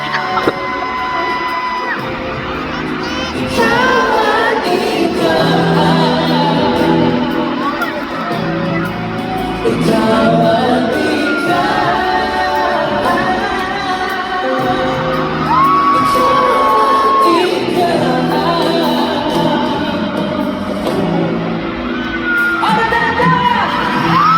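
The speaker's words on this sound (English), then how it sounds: "I love how everyone's just screaming." A concert crowd at a thanksgiving show screams and cheers continuously, a loud, dense roar of voices with whoops rising above it, sustained throughout alongside music.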